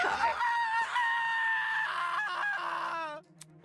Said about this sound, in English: Kai's scream rang out loud and clear in my ears.